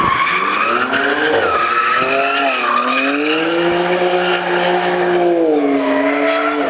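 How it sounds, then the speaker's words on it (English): At the SEMA show in Las Vegas, a loud car engine roars and revs continuously with tires squealing and skidding, the pitch sweeping up and down throughout. "What motor's in that, Alberto?"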